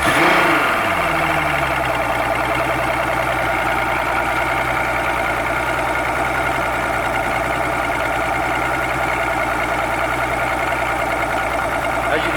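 A Mercury outboard motor with a faulty oil tank cranks and catches, then settles into a steady, loud idle with a low droning hum that holds evenly to the end.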